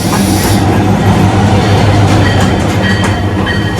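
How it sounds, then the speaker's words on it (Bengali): Kurigram Express passenger train arriving at a station on the Rangpur to Dhaka line, a loud continuous rumble of rolling railcars with rhythmic clickety-clack and faint wheel squeal, close by. "11:15 আমাদের ট্রেনটি স্টেশনে পৌঁছায়।"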